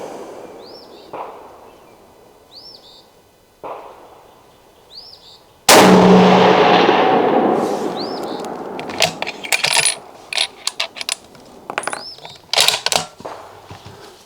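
A Smith & Wesson 1500 (Howa) .30-06 bolt-action rifle fires one loud shot, then a series of crisp metallic clacks follows as the bolt is worked, close and clear.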